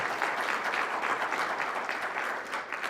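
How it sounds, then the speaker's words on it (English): Applause from an audience at a luncheon event is a steady, moderately loud wash of many hands clapping, continuous throughout without pause or voices. "if you guys want to hold your applause to the end, that'll be cool"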